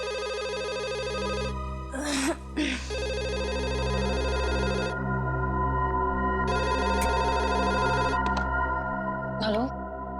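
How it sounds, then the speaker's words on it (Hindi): A telephone rings late at night in a TV drama, repeated electronic ring bursts over a low background music drone, with short stretches of voices between rings. "इतनी रात को कौन फोन कर रहा है?"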